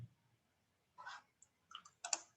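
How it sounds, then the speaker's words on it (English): Computer mouse clicks on a file selection button, a few small, crisp clicks spaced out in near silence, with a faint low noise at the start. "I click on choose file,"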